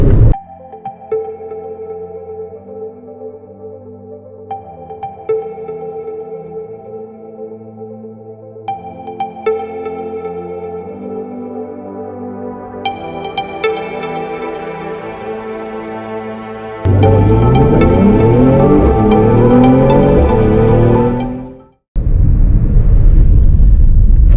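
A Mazda CX-5 2.2D diesel with front-wheel drive accelerates at full throttle, its engine note climbing steadily through the gears with sharp shifts, rising to a loud, dense roar with heavy wind rush near the end.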